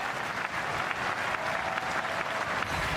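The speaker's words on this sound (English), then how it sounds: "And he gets a round of applause" Steady, dense applause from a large stadium crowd at a Brisbane Roar versus Adelaide United A-League football match, a continuous wash of clapping with no individual voices standing out.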